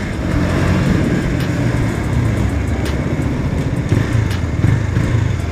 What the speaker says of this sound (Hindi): पूरा गाड़ी मतलब फुल थ्रॉटल में लाया हूँ गाइस, एंड साइलेंसर का जो पूरा गर्म हो गया, वो सो आवाज ही चेंज अब निकल रहा है।